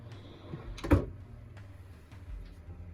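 Deep drawer in a Heartland North Trail 26LRSS camper trailer sliding open or shut, a single soft thud with a short rolling scrape, close and moderately loud, followed by a few faint light clicks.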